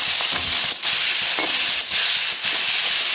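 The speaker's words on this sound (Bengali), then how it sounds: "যেহেতু অল্প মাছ আমি সবগুলো একসাথে দিয়ে দিচ্ছি, বেশি ভাজবো না" Tengra fish fries in a pan with turmeric and salt, a loud continuous sizzle and hiss with a few brief dips and scraping stirs.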